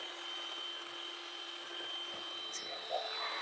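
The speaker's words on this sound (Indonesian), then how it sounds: "Kemudian mixer semua bahan menggunakan kecepatan paling tinggi hingga putih, kental, dan berjejak." A hand-held electric mixer whirs at top speed, beating eggs and batter for a strawberry shortcake until thick and pale: a steady, continuous high whine with a faint motor hum, fairly quiet and unbroken throughout.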